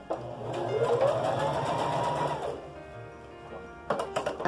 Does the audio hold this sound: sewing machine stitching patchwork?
yes